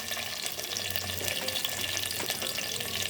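Onions frying in a pan for an old-style ash gourd and tomato dish, a soft continuous sizzle with faint clinks and stirring, close and fairly quiet, no voices.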